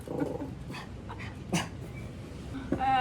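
A small dog makes brief yips and whimpering barks over steady background noise indoors, with a few short vocal bursts scattered through the stretch and no talking.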